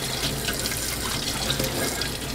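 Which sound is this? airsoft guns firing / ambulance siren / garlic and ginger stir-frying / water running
water running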